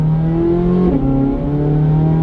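A Corvette C8 Z06 with aftermarket exhaust modifications revs nearby, a loud engine drone that rises, dips briefly, then settles back to a steady high idle.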